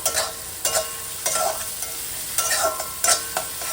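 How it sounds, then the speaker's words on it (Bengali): Ginger, garlic, tomato and salt are stirred and fried in a hot pan for a cabbage and fish-head curry. A spatula scrapes in repeated rhythmic bursts over a steady, close sizzle, with no talking. "আবারও খুব ভালোভাবে নেড়ে চেড়ে ভাজা করে নেব।"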